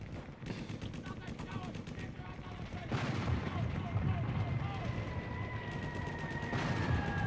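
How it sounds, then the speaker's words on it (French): Machine-gun bursts open Metallica's "One", rapid rhythmic gunfire volleys layered with artillery-like booms in a dense battlefield mix, continuous and loud for several seconds. "Au début, c'est des sons de mitraillette."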